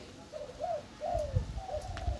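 A caged wild-caught bird, sold as a decoy for trapping, gives several soft cooing calls in a steady sequence, close and fairly quiet, with no talking.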